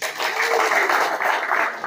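A crowd claps for hackathon participants in a brief, loud, continuous burst of applause with no voices over it.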